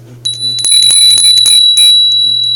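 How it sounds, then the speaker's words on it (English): A new Japanese-style bell struck up close, ringing with a bright, sustained metallic tone over a faint low hum, a few quick taps followed by a longer lingering ring. "we have a new bell for my wife"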